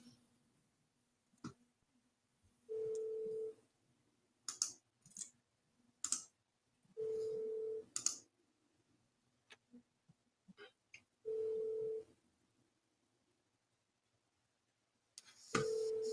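A telephone call being dialed and met with a busy signal: repeated short, steady tones in separate bursts, with clicks and faint handling noises between them in an otherwise quiet room.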